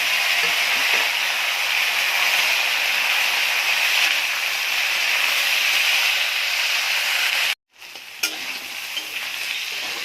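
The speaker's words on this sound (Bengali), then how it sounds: "এখন সব বেগুনটা বাদ দিয়ে সব সবজি" Vegetables sizzle steadily in hot oil tempered with dried red chilli and bay leaf, a loud continuous frying hiss with stirring, briefly cut off near the end before resuming.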